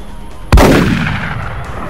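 A gunshot in the video game XCOM: Enemy Within, a single sharp, loud report followed by a long booming decay.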